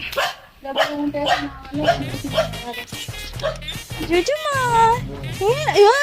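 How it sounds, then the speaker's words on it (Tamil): Small dogs yap and whimper repeatedly close by, high-pitched barks overlapping with people talking throughout. "இங்க நிறைய நாய்க்குட்டி இருக்கு."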